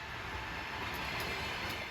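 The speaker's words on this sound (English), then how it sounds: "Our train consists of old Soviet-style carriages built at the Ammendorf factory in Halle-Saale" Mongolian Railways overnight train of old Soviet-style carriages built at the Ammendorf factory in Halle-Saale, rolling along with a steady, close rumble and rattle of the wagons, heard alone and without talk.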